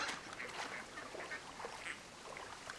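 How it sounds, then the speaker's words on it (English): Duck quacks from the video game Firewatch, a few soft, scattered calls over a steady hiss of outdoor ambience, faint and distant, with no talk. "Was that a duck? Did I hear a duck then? Quack, quack."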